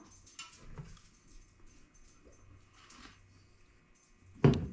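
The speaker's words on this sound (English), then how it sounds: "That's my dog Ripley, by the way." A pet dog gives a few soft, faint whimpers and small shuffling noises in a quiet room, ending in a sudden louder burst of sound near the end.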